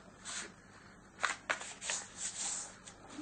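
Sheet of paper being folded and creased for an origami star box, with short crisp rustles and sliding swishes in uneven bursts, close by and without talk.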